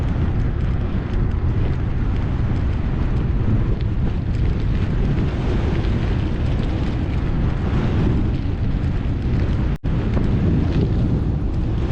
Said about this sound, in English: the wind's coming out of the south